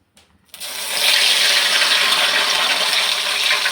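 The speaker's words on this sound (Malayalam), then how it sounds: "ഇതൊക്കെ എണ്ണയിലേക്ക് ഇട്ട് കൊടുക്കാം." Urad dal vada batter dropped into hot sunflower oil, settling into a steady loud sizzle and hiss of deep frying that starts abruptly after a brief quiet moment and holds without talk.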